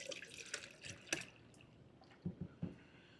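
Vanilla bean ice cream base pouring into a Ninja Creami tub, a few soft drips and wet splashes followed by three low glugging pours near the end, close and fairly quiet.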